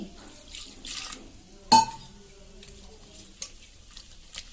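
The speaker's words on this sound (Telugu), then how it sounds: "వాటర్ వేసుకొని" Water splashes into a bowl of spiced batter for cauliflower 65, followed by wet stirring and a sharp clink of a utensil against the rim.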